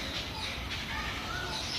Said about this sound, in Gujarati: મસ્ત મજાનું વાતાવરણ છે અને પક્ષીઓનો અવાજ આવી રહ્યો છે.